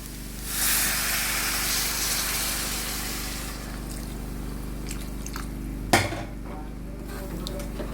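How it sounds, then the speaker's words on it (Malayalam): Water is poured into a pan of squid being cooked for a roast, a steady splashing stream for a few seconds, then quieter kitchen sounds and a single sharp clink of utensil against the pan. "നമ്മുടെ ഈ കണവ വേവുന്നതിനാവശ്യമായ വെള്ളം ഒഴിച്ചു കൊടുക്കുക"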